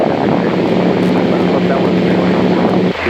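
A Piper Warrior light aircraft's engine drones loud and steady through takeoff, a constant propeller hum with heavy wind rush filling the cabin, easing slightly just before the end.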